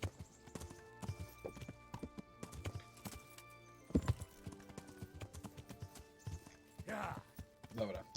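Horse hooves clip-clopping in the medieval video game Kingdom Come, irregular hoof thuds at a walking pace with a brief whinny-like burst, faint and partly under someone talking.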